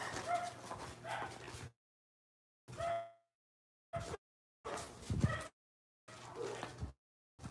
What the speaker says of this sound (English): We got a bunch of barking in the front yard.